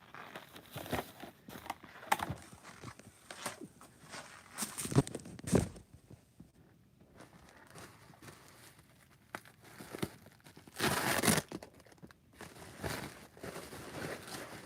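Knives shipped in bubble wrap are unwrapped by hand, giving repeated crinkling, rustling and tearing bursts of plastic wrap, close and fairly loud, with quieter handling between them.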